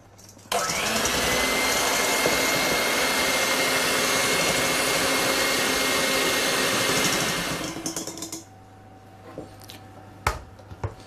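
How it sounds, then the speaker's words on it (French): An electric hand mixer whips egg and sugar in a bowl toward the ribbon stage for whoopie pies, a loud, steady high whir running for about seven seconds before switching off, followed by a few faint clinks. "Dans un bol, vous allez mélanger l'œuf, le sucre et le monter avec le batteur jusqu'au ruban."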